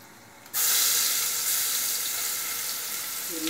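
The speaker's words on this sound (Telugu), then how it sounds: "మిక్సీ చేసుకున్న బిర్యానీ మసాలా అంతా వేసి యాడ్, అది కొంచెం వేగిన తర్వాత" Ground biryani masala dropped into hot oil in a pressure cooker, bursting into a sudden loud, close sizzle that holds as a steady hiss.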